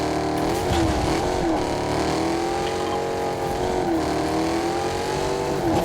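A car engine roars in Fortnite, a loud sustained growl whose pitch swells and dips as the vehicle revs and accelerates, with faint tire noise and no talk over it.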